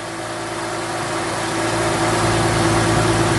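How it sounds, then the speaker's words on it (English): An engine with a 3MPI setup idles in neutral at about 800 revs, a steady close drone with a low hum and faint harmonic tones that rises gently in loudness throughout. "So it's running, it's in neutral,"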